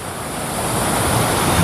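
Fast-flowing stream water near a lake in northern Italy, a dense, steady rushing roar, loud and close, with no voices over it.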